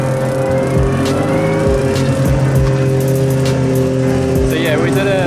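Jono's second car, an RB-engined machine at Locktoberfest, drives past loud and close with rising and falling engine revs and a brief tire squeal, while people talk over it.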